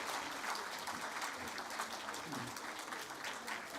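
A church congregation applauds during a Sunday service celebration, a faint, distant spread of clapping running evenly throughout with murmured voices beneath.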